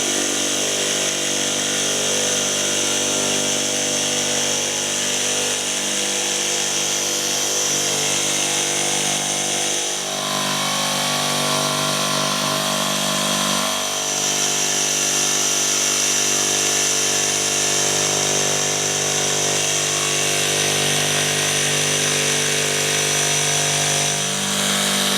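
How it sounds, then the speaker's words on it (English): A jigsaw cuts a circle in a garden shed project, running loud and steady with a high whine for the whole stretch and only brief dips in pitch as the blade works around the curve. "So now all we need to do is jigsaw out"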